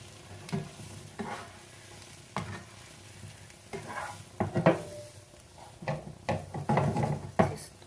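Vegetables being sautéed in a pan, a low sizzle broken by repeated scraping stirs and clinks of a utensil against the pan, close and intermittent.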